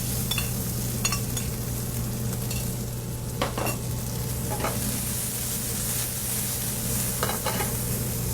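Vegetables sauté in olive oil in a sauté pan over medium heat, a steady close sizzle with occasional clinks and scrapes of a utensil stirring against the pan, no voices.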